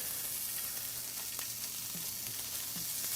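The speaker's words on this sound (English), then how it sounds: "I've got my pan preheated on medium high. And we're just gonna place our bacon right in there" Bacon, home-smoked, frying in a pan preheated on medium high, giving a dense, steady sizzle with faint crackles and pops, close and continuous with no talking.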